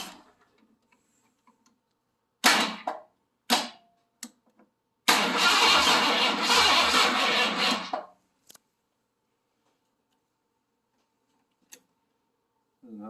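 A 351 Windsor V8 swapped into a 2002 Ford Ranger cranks in several short bursts, then catches and runs roughly for about three seconds before cutting out, with a few faint clicks afterward.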